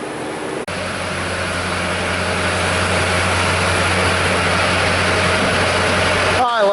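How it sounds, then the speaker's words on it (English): A Duramax diesel truck engine idles steadily in a rust-proofing shop, a loud, even low rumble with a constant throb running continuously and close by. "I love the sound of my Duramax whenever I hear it."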